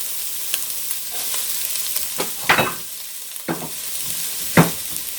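Onion and celery hitting a pot of browning sweet potatoes, with a low frying hiss broken by a few sharp, close bursts of stirring and scraping, no voices.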